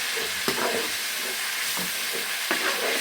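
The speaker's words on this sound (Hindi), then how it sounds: "और इसको डाल के तकरीबन 1 मिनट हम भून लेंगे।" Tomato paste with spices fries in a pan, giving a steady close sizzle and hiss, broken now and then by faint stirring scrapes.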